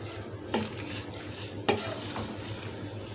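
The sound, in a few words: stirring chicken vegetable macaroni in a pan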